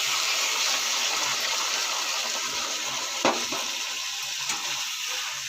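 A paste of ginger, garlic, tomato, green chili and onion sizzles in a pan with potatoes, making a steady, moderately loud hiss with one brief clatter partway through.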